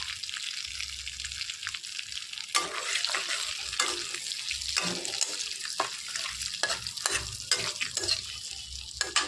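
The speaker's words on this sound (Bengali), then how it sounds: "ফোড়নটা একটু নাড়াচাড়া করে নিলাম।" Whole cumin, three dried red chillies and two bay leaves sizzling in hot oil while a spatula stirs them, a steady close crackle broken by repeated sharp scraping strokes against the pan.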